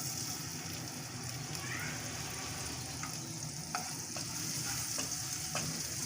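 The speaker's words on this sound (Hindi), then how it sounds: "चॉप अनियन को सौते करूँगा" Chopped onion sautéing in a tablespoon of melted butter in a pan, a steady close sizzle with a few light stirring clicks and faint scraping throughout.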